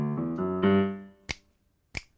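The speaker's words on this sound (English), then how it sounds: "There's those snaps." Finger snaps in a Halloween song, two crisp isolated snaps close up that follow a few fading sustained piano-like notes, with no talking.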